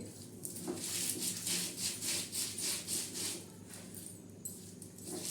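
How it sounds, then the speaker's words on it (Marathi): A spice masala mixed with water is ground by hand on a stone slab pata. Close, rhythmic rasping strokes swell and fade one after another in a steady back-and-forth pattern. "आता माझ्याकडे पाटा आहे मी पाट्यावर मस्त वाटून घेत आहे"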